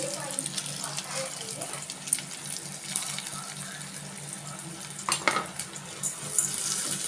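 Urad dal frying in hot oil alongside onions, a low continuous sizzle with occasional stirring scrapes and clinks, with a voice talking over it at times.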